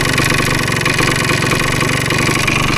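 A PE250 dirt bike engine idles close by, its steady and loud low mechanical chug running unbroken for the whole stretch, with no voices over it.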